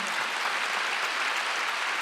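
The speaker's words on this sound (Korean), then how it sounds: "박수 한번 주세요" Steady applause from a church congregation at a Wednesday worship service, dense and even throughout with no voices over it.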